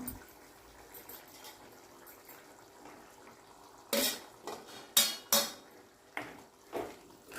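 A spoon scrapes quietly in a pot of gongura mutton curry, then several sharp clinks and knocks against the metal come in quick, uneven succession.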